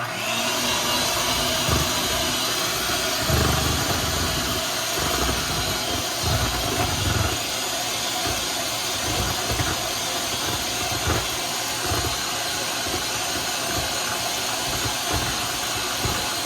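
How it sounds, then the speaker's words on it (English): An electric hand mixer beats cake batter for a three-layer chocolate and vanilla coconut cake, a continuous loud whirring hiss close by, with faint knocks against the bowl and no talking. "So we got our handy dandy mixer. So we're gonna mix now."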